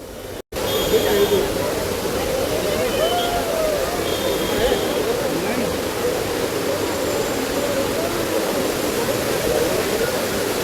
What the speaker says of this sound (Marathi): घाटाच्या वर असलेला हा अतिशय सुंदर असा धबधब्याचा परिसर